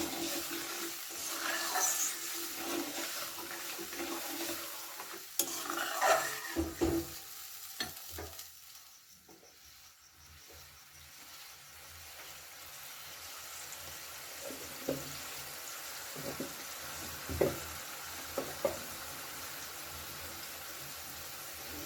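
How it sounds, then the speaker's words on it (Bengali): Curry gravy simmering in a pan for a Bengali fish curry gets stirred, giving a soft continuous sizzle and bubbling with scattered scraping and clinking of the spoon, fairly quiet and steady with no talking. "ভালো করে একটু ঝোলটা নেড়ে নেব।"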